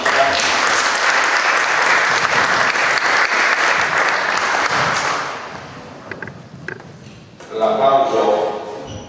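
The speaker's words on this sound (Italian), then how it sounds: "L'applauso ha espresso chiaramente la condivisione da parte di tutti quelli che siamo qui dentro" A crowd at an antifascist meeting in Reggio Calabria breaks into loud, sustained applause for several seconds that then dies away as a voice starts speaking over the room.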